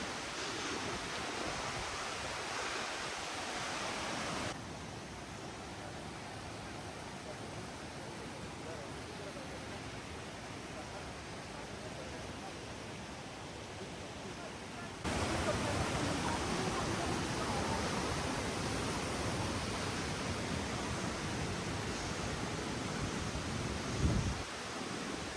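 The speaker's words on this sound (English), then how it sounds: "This is the beautiful Torque waterfall" Torc Waterfall in Killarney National Park, a continuous broad roar of falling water heard from nearby, steady throughout with a slight lift in loudness partway along and no voices over it.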